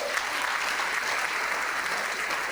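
A church congregation applauding to acclaim the Lord, a dense, steady wash of many hands clapping together at moderate distance, sustained evenly through the whole moment with no voices standing out.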